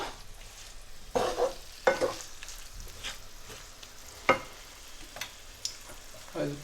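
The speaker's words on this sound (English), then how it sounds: "So fry it for 30 seconds with the masala." Frozen green peas frying with masala in a pan, giving a steady low sizzle broken by several sharp scrapes and stirring knocks at irregular intervals, close and moderately loud, with no talking.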